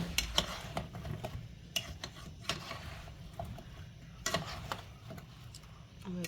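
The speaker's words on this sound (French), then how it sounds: "bien mélanger beurre et pommes" Apples sautéed in melted butter in a pan, stirred with a utensil that knocks and scrapes at irregular intervals over a quiet, low sizzle.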